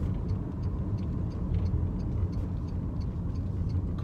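A car's turn signal indicator ticking in a steady, regular rhythm inside the cabin while driving toward a roundabout, quiet clicks layered over a constant road and engine rumble.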